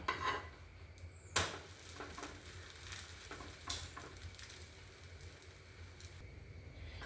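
Drumstick leaf dosa sizzling softly in oil on a pan, with a sharp spatula scrape and clack as it is flipped partway through, then a steady low frying hiss continuing alone.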